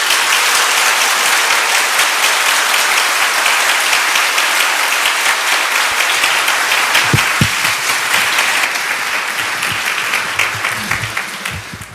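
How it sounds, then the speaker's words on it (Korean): A church congregation gives applause of encouragement to a departing member, loud steady clapping filling most of the stretch, then thinning and tapering off near the end. "우리 격려의 박수 드리겠습니다"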